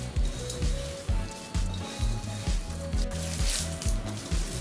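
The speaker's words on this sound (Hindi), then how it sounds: "धीरे धीरे पानी डालते जाना है और गूंथते रहना है" Rava roti dough is kneaded by hand while water is added, giving a regular series of squelching, slapping pushes about twice a second at a close, moderate level.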